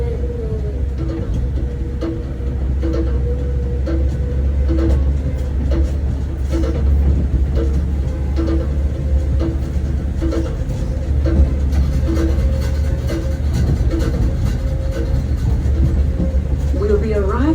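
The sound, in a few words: Goombay tram ride at Lookout Cay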